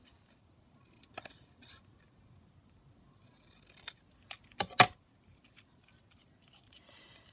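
Scissors snip through paper while a craft tag is cut out, sounding as scattered close, quiet clicks and crisp cuts with pauses between them.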